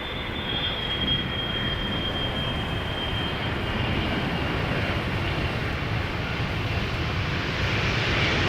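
A jet airliner arriving at Amsterdam Schiphol Airport gives a steady, broad engine roar that holds at an even level for the whole stretch, with no talking.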